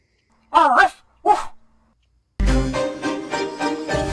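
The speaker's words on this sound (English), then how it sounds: "Where did this dog come from, by the way? His name is Mist." A guard dog named Mist in the video game Goosebumps HorrorTown gives two short, close barks, then after a pause a longer burst of sound follows.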